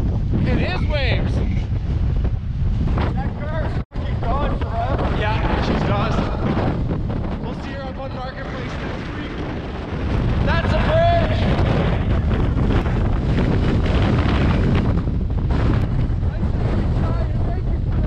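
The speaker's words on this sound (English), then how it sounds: "It is waves." Strong hurricane wind from Hurricane Fiona roars across the microphone on the Prince Edward Island shore, blending with heavy surf in a loud, continuous rush, and voices break through briefly.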